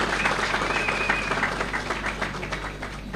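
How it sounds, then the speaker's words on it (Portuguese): A crowd at a Mozambican ANAMOLA party rally gives a sustained round of applause, a dense continuous wash of clapping that stays fairly even before easing slightly near the end. "Também vou pedir uma salva de palmas bem forte para a Vânia."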